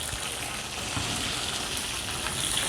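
Tomatoes sizzling and frying in a pan for aloo kaddu sabzi, a steady, close, continuous crackling hiss with no talk.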